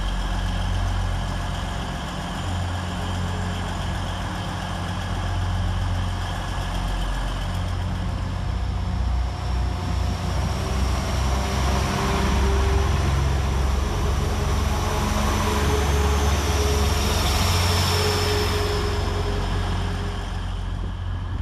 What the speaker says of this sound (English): 195113 departs for York.